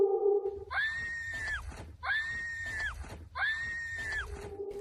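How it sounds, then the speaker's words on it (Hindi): A woman screams three times in repeated long, high wails, each drawn out and falling at the end, over a low rumbling background at night in a deserted area. "दरअसल एक महिला की चीखने की आवाज आती है।"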